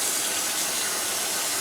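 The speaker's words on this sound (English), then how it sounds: "So we take the water and turn it on," Tap water running steadily into a sink while a tie-dyed T-shirt is rinsed, a close, continuous hiss and splash with no talking.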